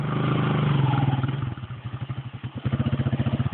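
Quad bike engine at close range, first a steady drone, then pulsing revs with a bumpy, throttled rhythm that swells louder toward the end, with no talk over it.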